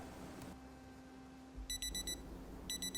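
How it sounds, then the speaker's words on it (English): A video game alarm clock rings in bright, rapid electronic bursts, two clusters of beeping pulses at moderate volume over a steady low hum. "Woke up bright and early with our alarm."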